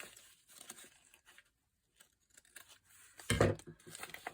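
Scissors snipping a small piece off a handmade paper bag notebook, a few quiet cuts and rustles ending in one louder, crisp snip with crinkling paper, close up.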